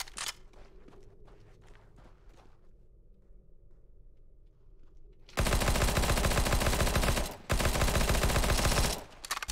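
Heavy automatic gunfire in Counter-Strike: Global Offensive's Danger Zone mode, loud sustained bursts breaking in after a quieter stretch of light footsteps and clicks, with one short pause before the firing resumes.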